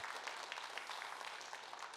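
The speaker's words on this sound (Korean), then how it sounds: "박수하십시다" Church congregation clapping together during a worship service: a faint, distant, continuous wash of many hands, steady throughout with no talk on top.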